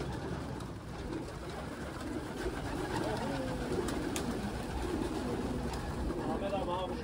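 Pigeons coo softly in a loft or yard, low rolling calls repeating under a constant outdoor hiss while someone talks over them at moderate distance.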